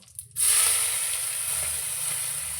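Cinnamon and onion sizzle in a hot pan with a steady, loud hiss that starts abruptly and holds evenly, close up and without talk.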